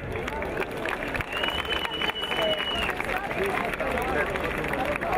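An audience at an evening folk gathering applauds traditional folk musicians from around Púchov, steady crowd clapping mixed with murmuring voices and hubbub, continuous and fairly loud.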